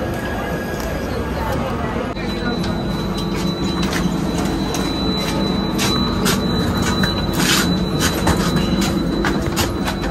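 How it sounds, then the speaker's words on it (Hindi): A passenger train rolls into a busy Indian railway station, with continuous rumble, wheel noise and faint squeals throughout, while people talk nearby over the steady din. "हम लोगों का आज बहुत ज्यादा देर बाद आई है ये ट्रेन"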